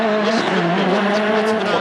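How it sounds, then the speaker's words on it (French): Rally car, Ford on a special stage of the 2013 Rallye de France Alsace, powering through a tight hairpin bend, a loud continuous engine roar holding close and steady throughout. "Procop dans cette épingle de Mats Østberg"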